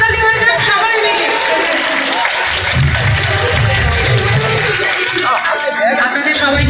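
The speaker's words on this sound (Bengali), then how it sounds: "নিজেদের সাধু উদ্দেশ্যের জন্য একটা জোরে হাততালি হয়ে যাক সবাই মিলে" A live concert crowd claps together in a loud, sustained burst of applause that fills the whole stretch, with chatter and a voice mixed into the dense clapping.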